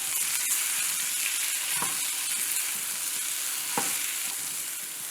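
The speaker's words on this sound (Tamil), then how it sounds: "அது மேலேயே கொஞ்சமாக எண்ணெய் விட்டுடலாம் இப்போ இதை நல்லா கலந்து விட்டுடலாம்" Chili powder masala fries in oil in a pan with a constant bright sizzle, while a spoon stirs through it and scrapes twice, nearby and with no one talking.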